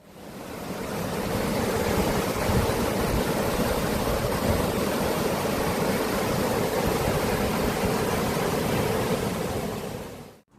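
Steady, full broadband rush of river water flowing past a poolside dining spot at Pendopo Ciherang in Bogor, continuous and fairly loud throughout with no voices.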